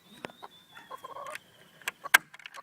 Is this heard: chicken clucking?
yes